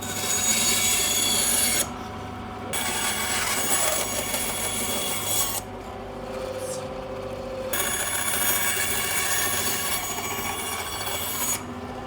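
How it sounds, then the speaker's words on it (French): A band saw whines steadily while cutting wooden battens, the harsh rasping cut pausing briefly twice before resuming, loud and close with no talking. "Donc la scie à ruban, donc je vais pouvoir découper mes tasseaux."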